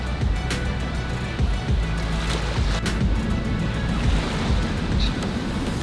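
Ocean surf rolls in steadily on a beach at Port Aransas, with strong wind buffeting the microphone in a continuous loud rush and no clear talk.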